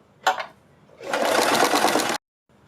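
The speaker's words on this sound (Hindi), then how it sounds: "इस पर भी हम इसी तरह से सिलाई लगा लेंगे" Sewing machine running a stitching pass along the side seam of an apple-cut kurti top, a short burst of whirring stitches followed by a longer steady run that stops abruptly, close and loud with no talk.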